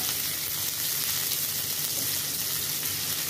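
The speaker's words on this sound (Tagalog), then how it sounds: "Mainit na ang kawali at ang mantika na nilagay natin. Ilagay na ang bawang." Garlic and onion frying in hot oil in a pan, a steady dense sizzle close by with no talk, continuous and even throughout.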